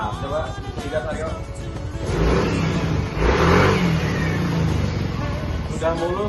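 Motorcycle engine revving just after an engine and transmission oil change, mid-pitched and smooth, rising in two surges then settling while people talk nearby.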